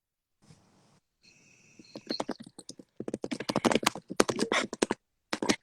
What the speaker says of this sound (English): all I hear is your keyboard clacking